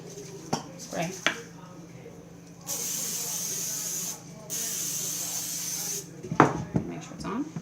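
A cleaning spray bottle gives two long, steady hissing bursts of a second or more each. Light handling clatter comes before and after.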